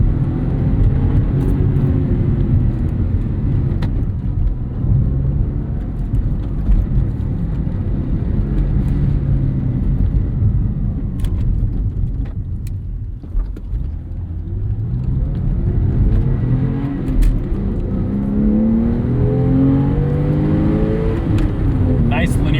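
Porsche 996 911 engine revving hard toward its 7,000 RPM redline, a loud sustained flat-six howl rising and falling through gears from inside the car.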